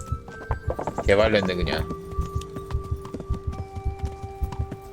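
A horse clip-clops at a steady trot in Kingdom Come: Deliverance, its hooves beating a regular, close rhythm throughout, and a whinny rises near the start while someone speaks briefly over it.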